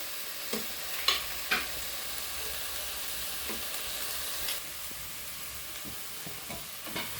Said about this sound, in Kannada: ಈಗ ಮೆಂತ್ಯ ಸೊಪ್ಪು ಫ್ರೈ ಆಗಿದೆ, ಮತ್ತು ಆಲೂಗಡ್ಡೆನೂ 1 ನಿಮಿಷ ಫ್ರೈ ಆಗಿದೆ